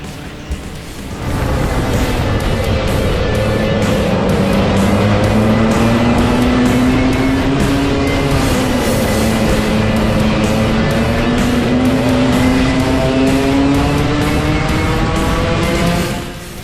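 Club 100 racing karts in a competitive heat drone loudly and continuously as a pack, engine pitch rising and falling steadily with throttle through corners, close and sustained for about fifteen seconds after a quieter start.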